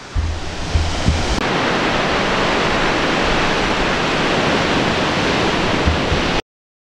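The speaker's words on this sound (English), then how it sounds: "The waves are pumping" Ocean surf pounding a beach where surfers ride barreling waves, a loud, continuous roar of breaking water with wind rush that fills the whole stretch before cutting off abruptly.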